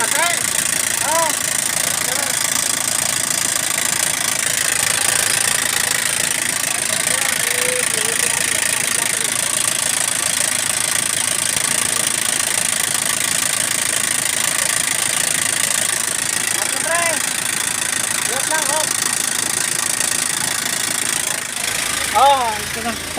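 A previously dead engine, just brought back to life, runs at a steady idle with a continuous close rumble and vibration throughout, while voices talk nearby.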